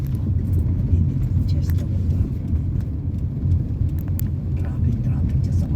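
Road traffic near Lipa City rumbles steadily and close, a dense low drone of passing vehicles heard from inside a car, with people talking over it.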